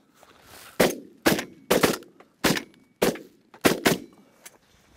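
Shotgun blasts fired at geese during an opening-day goose hunt, seven sharp outdoor reports in quick irregular bursts, some nearly overlapping, each trailing off with a short echo, with no talking.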